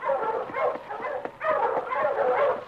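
Husky sled dogs bark and whimper close by in a snowy Yukon setting, a rush of excited yips and whines in two bursts with a short gap between them, and no talking.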